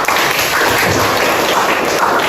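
A class claps together in continuous, dense applause, loud and close, with no pauses and no talking over it.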